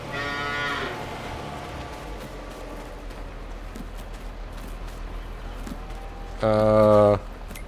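Cows in a Farming Simulator 22 barn give two loud, drawn-out moos, one at the start and one near the end, over a quiet ambient background.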